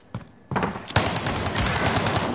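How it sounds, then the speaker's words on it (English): A drum-magazine shotgun fired in a video game, a couple of sharp blasts followed by a dense, loud burst of rapid repeated shots. "The shotgun does not go that far."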